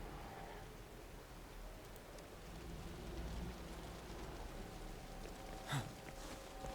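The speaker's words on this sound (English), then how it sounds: "The rain's getting heavier." Rain falls steadily in the video game Wuthering Waves, Huanglong region, a soft continuous hiss of rainfall at moderate distance with one brief sharper knock near the end.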